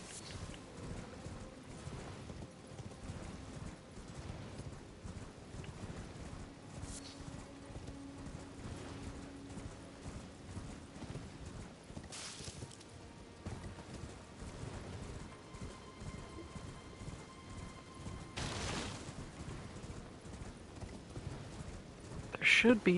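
In the open-world video game Elden Ring, a horse's hooves clop steadily at a gallop. The hoofbeats are fairly faint and run under ambient game sounds, with occasional brief swells of other in-game noises.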